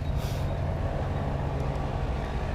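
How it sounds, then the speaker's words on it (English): Gas-powered lawn maintenance equipment works in a city park, giving a steady, rough mechanical drone with no break. "That noise is from the city doing maintenance on the lawn here."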